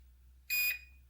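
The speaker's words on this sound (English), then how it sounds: "push it all the way up the throttle and then put it back, and then 2 beeps, and now the motor is armed" Electronic speed controller of a Volantex Sport Cub 500 RC plane gives a short, bright arming beep tone, alone over a quiet background.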